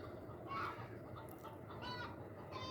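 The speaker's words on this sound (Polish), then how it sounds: "Słychać już w samochodach oho, oho jakieś koguty, kury." Chickens cluck and a rooster calls faintly in the distance over a steady low rumble, like an idling engine nearby, heard from cars at a campsite in the early morning.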